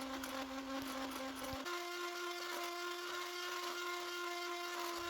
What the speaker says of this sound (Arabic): راح أضيف له نص كوب حليب بارد وأخلطه بالخلاط